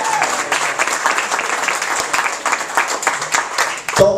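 An awards ceremony audience claps loudly and continuously, a dense room-filling applause with individual claps standing out, ending in a brief sound at the close.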